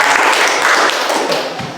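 Classroom applause for a student group after its presentation: a dense, steady wash of many hands clapping together for about two seconds, fairly close and even in loudness.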